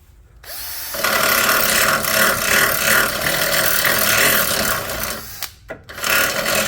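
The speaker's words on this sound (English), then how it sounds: "So I'm gonna go ahead and kind of drill it out a little bit" A power drill whirs steadily for several seconds, close and loud, drilling out a bolt hole on an adjustable tow bar, then stops with a couple of brief restarting bursts at the end.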